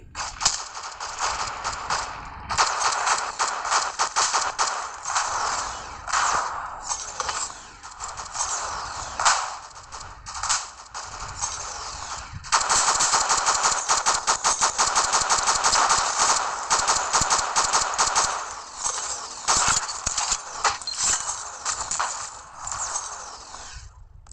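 Sustained gunfire from an online shooting video game, dense rattling automatic bursts that run nearly continuously and grow louder and busier in the second half, with no talk.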